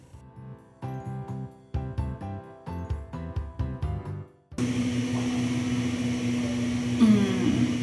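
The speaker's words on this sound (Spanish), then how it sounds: "No sé si escuchan, hay una licuadora sonando." Music plays and then cuts off, replaced by a loud, steady motor whir of a neighbour's blender running continuously.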